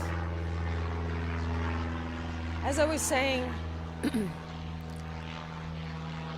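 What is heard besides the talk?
airplane passing overhead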